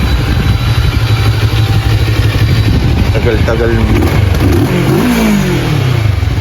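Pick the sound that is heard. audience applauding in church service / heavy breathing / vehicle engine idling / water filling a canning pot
vehicle engine idling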